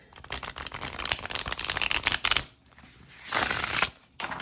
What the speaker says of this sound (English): This is not a bad shuffle.